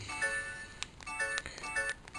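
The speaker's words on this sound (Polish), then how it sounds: "Można oczywiście ten dźwięk klawiszy wyciszyć" Short electronic beeps from a Samsung SGH D900i phone's keypad, three or four tonal blips spaced irregularly over about two seconds, faint and close with no voices.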